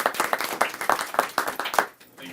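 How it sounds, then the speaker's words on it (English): Small audience clapping at a school board meeting, a loose patter of individual hand claps that stops abruptly, with voices talking over it. "Give one more round of applause"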